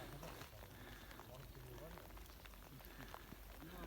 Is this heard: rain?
yes